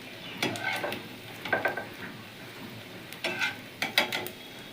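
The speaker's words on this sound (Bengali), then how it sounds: "আমার ডিমের বড়াটা খুব সুন্দরভাবে ভাজা হয়ে গেছে।" An egg fritter fries in hot oil, the sizzle rising in several loud bursts over a softer steady crackle, with short gaps between the bursts.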